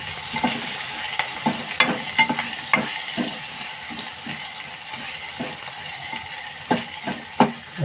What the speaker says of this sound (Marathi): आपली फोडणी चांगली लाल झाली.